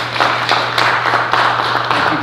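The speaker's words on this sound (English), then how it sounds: "Let's give her a round of applause." Applause from a church congregation during a Sunday worship service, a dense, steady wash of clapping at close range that holds for a couple of seconds over a low hum.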